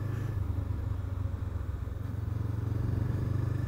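A Honda CBR500R motorcycle engine runs steadily on a shakedown ride, a low, even rumble with a faint pulsing throb, moderately quiet and with no voices over it.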